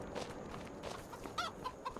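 Chickens clucking on a farm in Farming Simulator 25, a few short distinct clucks over a steady low ambient farm hum, moderately close and alone without talk.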